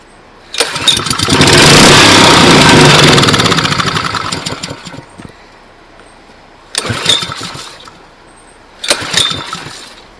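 A Honda GC160 generator engine cranks and catches, running loudly for about four seconds before dying, then two brief cranking bursts follow with no sustained start.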